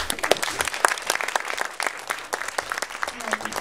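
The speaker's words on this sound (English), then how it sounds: "give them a round of applause" A small group at a training session gives a round of applause, scattered, fairly soft hand claps continuing steadily throughout.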